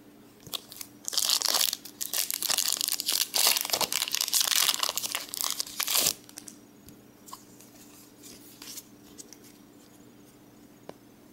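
Pokemon booster pack wrappers from the Crystal Guardians set crinkling and tearing loudly for about five seconds, close up, then quieter intermittent rustles and small crackles.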